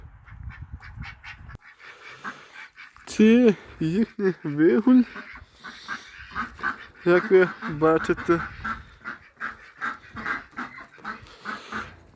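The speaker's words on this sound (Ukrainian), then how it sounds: "Качок я держу з гусьми і курми." Ducks and geese kept with chickens in a farmyard honk and quack in bursts, close and loud, alongside someone speaking over them.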